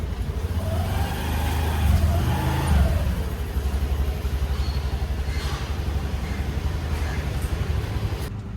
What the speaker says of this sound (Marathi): चाललो आहे आता रिक्षाने.